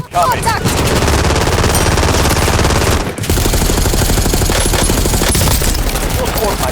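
Loud, rapid automatic gunfire in the video game Call of Duty Warzone, nearly continuous bursts with a brief gap around three seconds, close and dominating the mix.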